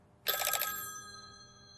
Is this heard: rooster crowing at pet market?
no